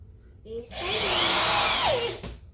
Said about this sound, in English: Can you see the drill?